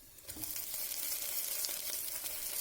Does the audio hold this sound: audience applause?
no